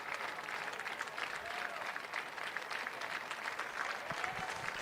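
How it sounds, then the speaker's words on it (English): Fans at a state championship boys soccer match applaud steadily, a dense distant wash of clapping filling the stadium at America First Field, with faint voices mixed in. "Giving a round of applause to both sides as we get ready for the trophy presentations"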